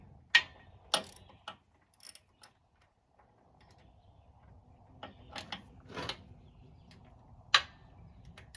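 Ratchet wrench clicking while working on a grease fitting of a Woodmizer LT70 band sawmill; short bursts of metallic clicks, near and moderately loud, separated by pauses with a low background hum.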